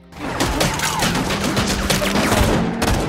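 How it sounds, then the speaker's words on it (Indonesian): Dense, loud gunfire from a gangster shootout in a film scene, rapid overlapping shots and bursts sustained without pause, with crashes mixed in. "ada dua kelompok gangster yang sedang terlibat baku tembak"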